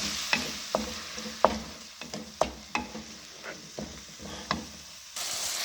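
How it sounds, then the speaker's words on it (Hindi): About a cup of ground paste from two large tomatoes fries quietly in a pan, with roughly a dozen sharp spoon scrapes at an uneven rhythm over a soft sizzle, ending in a sudden louder hiss. "हम 2 बड़े टमाटर हमने पीस के 1 कप के करीब पेस्ट ये भून लेंगे"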